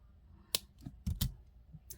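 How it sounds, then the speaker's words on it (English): Sharp scissor snips cutting beading thread on a bead necklace, a few crisp close clicks spaced irregularly over a quiet background. "And then we're going to snip that off."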